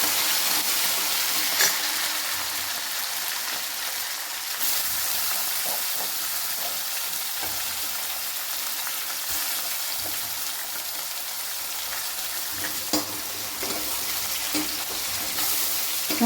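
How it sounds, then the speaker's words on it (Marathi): Tomatoes sautéing with garlic in a pan, a continuous hissing sizzle that runs evenly throughout with a few faint stirring knocks and no talking. "त्याच्यातच आपण आता टमाटर टाकून घ्यायचं. टमाट्याला पण छान असं परतून घ्यायचं."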